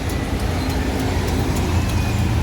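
A busy road carries continuous traffic rumble as a double-decker passenger bus rolls past, a steady broadband roar at close range with no one talking over it.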